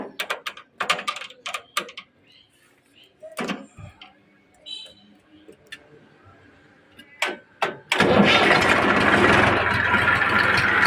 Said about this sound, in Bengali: দেখেন অলরেডি স্টার দিয়ে দিলাম স্টার সাউন্ডটা দেখেন অনেক সুন্দর একটি স্টার সাউন্ড